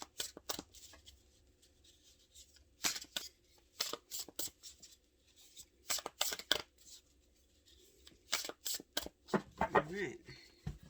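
Tarot cards riffled and shuffled in quick bursts, with crisp flicking clatter repeating in clusters and pauses between, close and clear, a voice briefly murmuring near the end.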